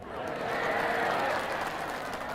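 Audience at an Islamic religious lecture breaks into steady, fairly distant applause that holds evenly for a couple of seconds with a murmur of crowd noise.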